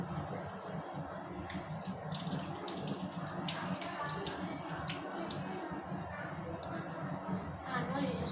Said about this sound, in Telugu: హ్యాండ్ వాష్ చేసుకుంటాను.